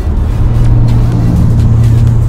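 A car's engine hums low and steady from inside the cabin as it accelerates on its own under adaptive cruise control, a loud, even drone with a faint rise and no talking.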